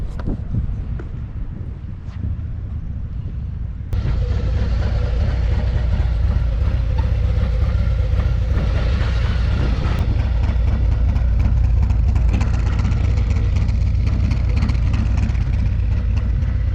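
Harley-Davidson Milwaukee-Eight 107 motorcycle fitted with a Redshift cam, Khrome Werks exhaust and Thundermax tuner, rumbling at a low idle nearby, then swelling into a louder, steady deep engine roar that holds to the end.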